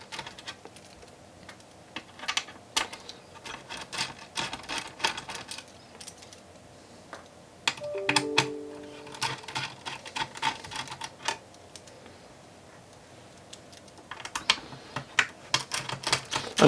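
Small screws being undone from a 2.5 inch drive bracket in an Acer Aspire C desktop, giving close, quiet clicks and scratchy ticks in irregular bursts.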